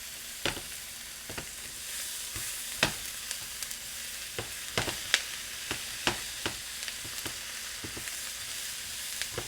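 Onions and mushrooms fry in a pan with a steady, bright sizzle. Frequent crisp pops and crackles break through the hiss, and the sound continues without any talking.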